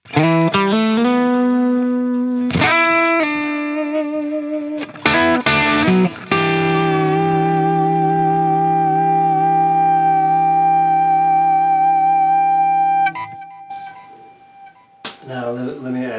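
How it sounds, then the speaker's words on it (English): Electric guitar with heavy distortion through a sustainer pickup, chords struck then held in long, unwavering sustain that rings on for several seconds before cutting off. "some distortion, and you'll hear more of what the sustainer sounds like."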